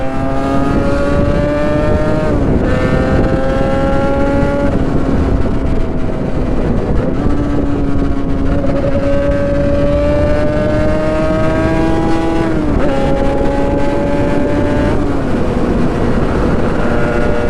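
Yamaha R1-Z two-stroke motorcycle engine under way, a loud, steady ringing drone that climbs in pitch through each gear, drops briefly at shifts around a few seconds apart, then rises again, with no voices.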